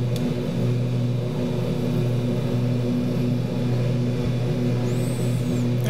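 Twin turboprop engines of a Super King Air B200 in a flight simulator drone steadily at high power, a continuous loud layered hum with strong tonal bands and no talk over it.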